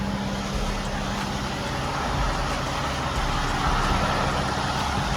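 A 2023 Western Star dump truck engine runs steadily with a low, broad rumble and a faint hum, unbroken and fairly close, with no voices.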